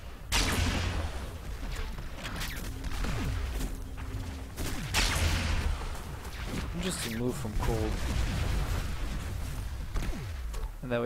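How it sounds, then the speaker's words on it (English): Bouncing rockets exploding in a fast competitive shooter match, a rapid run of heavy booms and blasts with bursts of gunfire, loud and continuous, with a commentator talking over the action. "There we have some bouncing rockets"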